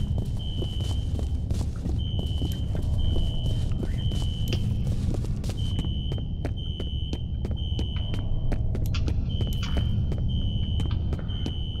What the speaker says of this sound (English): that alarm is going to be annoying